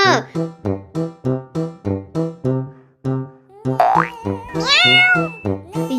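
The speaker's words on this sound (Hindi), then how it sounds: "ये बिल्ली का बच्चा कहाँ चला गया? आवाज तो यहीं से आ रही है।" A cartoon kitten gives a couple of high, rising meows over a bouncy, rhythmic run of repeated tones, close and clear.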